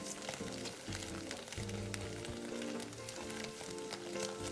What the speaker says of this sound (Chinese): 再将备好的香菇丁倒入，拉一拉油，这样香菇的香味更出来